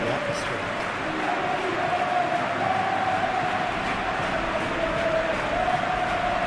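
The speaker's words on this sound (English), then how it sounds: "We have a hugely expectant crowd here." Stadium crowd noise at Anfield in the PES football video game, a dense, steady roar of a large expectant crowd holding at a constant level throughout, with a faint sustained chant-like tone running underneath.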